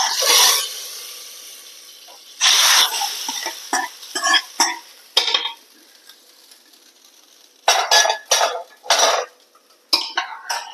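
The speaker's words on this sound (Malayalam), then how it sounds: "ഇനി നമുക്കിത് കറിയിലേക്ക് എടുത്തൊഴിക്കാം നമുക്കിത് ഇതിലേക്ക് ഒഴിക്കാം" Hot fried tempering poured into a pot of Kerala-style onion sambar made with roasted ground coconut, giving bursts of loud sizzling and hissing in several separate pours, with spoon and pot clatter between them.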